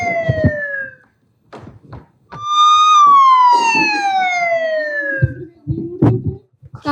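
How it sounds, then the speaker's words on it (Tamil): An ambulance siren wails in a nursing-team drama, a loud falling two-tone sweep rising again after a short pause, with thumps and brief background voices around it. "சரு PHM ஹாஸ்பிடல் கால் பண்ணிட்டேன், இந்த ஆம்புலன்ஸ் வந்துட்டு இருக்கு"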